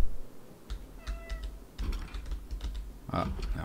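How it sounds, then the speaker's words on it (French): A cat meows briefly at close range among bursts of computer keyboard typing and faint background sounds, all fairly quiet. "on a le chat qui vient dire bonjour au micro"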